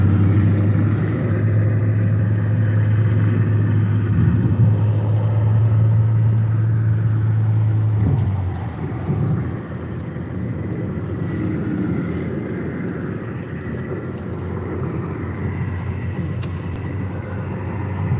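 A car being driven, its engine and road noise forming a steady loud drone with a low tonal hum that drops away after about eight seconds, leaving a rougher rumble of tires and cabin noise.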